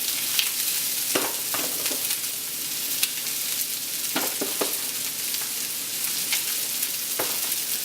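Mushrooms frying in a pan with caramelized onions and carrots for chicken marsala, a steady dense sizzle broken by occasional scraping stirs, close and continuous with no talking.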